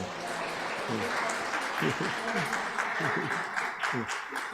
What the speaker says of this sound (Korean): 그리고 박수로 감사합니다.